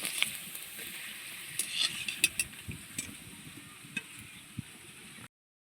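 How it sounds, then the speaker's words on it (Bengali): Moong dal papad frying in lightly heated oil, a steady soft sizzle with small crackles and a few sharper pops, fairly quiet and alone before cutting off abruptly. "পাঁপড়গুলো কিন্তু হালকা গরম তেলের মধ্যেই ভাজতে হবে"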